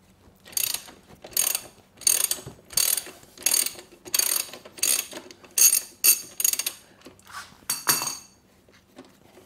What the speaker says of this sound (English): So you need a 19mm socket.